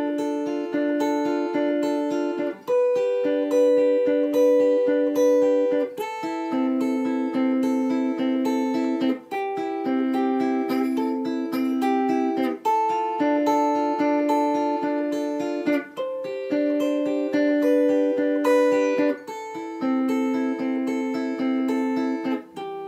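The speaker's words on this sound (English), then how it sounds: "So let's just play the whole intro nice and slowly." Electric guitar slowly plays the intro riff of a song, clean picked single notes and chord tones repeating in steady phrases, loud and close with no talking.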